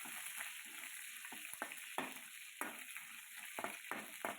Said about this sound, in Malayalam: കുറച്ച് കറിവേപ്പില ഇട്ട് കൊടുക്കാം എന്നിട്ടൊന്ന് വഴറ്റി കൊടുക്കാം